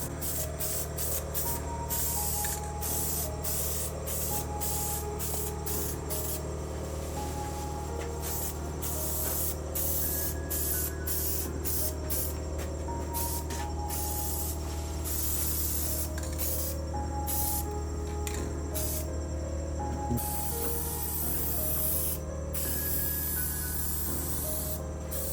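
A spray can laying a second coat of black paint on a car hisses in long continuous bursts with short gaps between passes, steady and moderately close over a low background hum.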